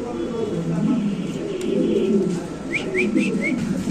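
Fancy pigeons coo softly beneath a busy background of voices, with a short run of four quick bird calls near the end.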